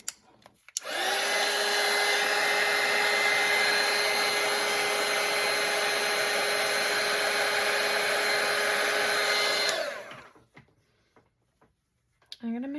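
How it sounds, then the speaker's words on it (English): A hair dryer runs steadily at close range for about nine seconds, blowing on a watercolour painting of a nativity portrait, then cuts off; a voice follows briefly afterward. "Okay, I'll dry this one."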